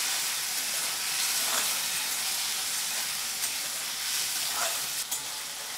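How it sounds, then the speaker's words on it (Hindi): Chopped tomatoes frying with onions in a pan, a steady close hiss and sizzle with a couple of soft stirring scrapes and no talk. "थोड़ा सा टमाटर को प्याज के साथ फ्राई कर लेते हम।"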